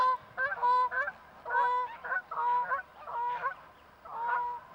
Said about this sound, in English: It's the old geese are off.